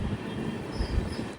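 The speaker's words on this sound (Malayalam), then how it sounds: "ട്രെയിൻ ഇപ്പോൾ തിരുപ്പതി റെയിൽവേ സ്റ്റേഷനിലേക്ക് എത്തുകയാണ്." Train pulling into Tirupati railway station, a steady close rumble of wheels and carriages rolling over the rails with no voices.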